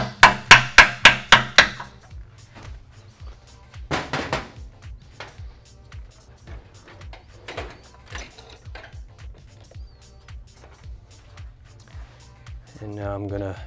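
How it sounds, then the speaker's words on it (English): A part on a Honda CBR500R is tapped into place with a run of sharp, close metallic knocks, first a quick burst of five, then scattered lighter taps and clicks under a faint low hum, with a voice briefly at the end. "Once you have it aligned, you can tap it in."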